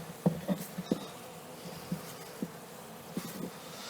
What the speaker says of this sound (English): Now I'm trying to sweep over some of these bees.